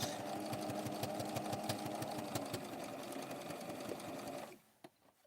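A sewing machine runs a steady, rapid double stitch on a custom blue sparkle doll dress for a Barbie, its even mechanical chatter continuing close and loud for about four and a half seconds before stopping abruptly.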